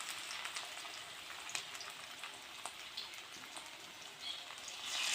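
Coriander leaf fritters fry in refined oil, giving a steady, soft, crackling sizzle with scattered small pops. It stays fairly quiet and even throughout, then swells slightly louder toward the end.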